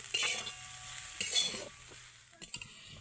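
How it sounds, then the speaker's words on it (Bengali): Grated coconut is stirred with powdered milk in a pan, with a few close scraping strokes, faint sizzle and light clinks of the utensil, and no voices. "এবার নারকেলটাকে গুঁড়ো দুধের সাথে আগে ভালো করে মিশিয়ে নেব"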